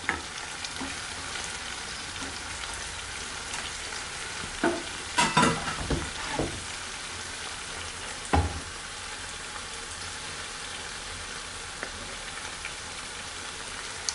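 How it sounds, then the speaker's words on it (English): King prawns and spring onions simmering in a spicy creole rougaille sauce, a constant close sizzling bubble with a few brief scraping stirs in the middle and no talking. "all you want to do is let them poach in that beautiful sauce"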